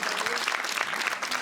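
An audience at a French-language stand-up comedy show breaks into applause, a brief, dense burst of many hands clapping evenly throughout the hall.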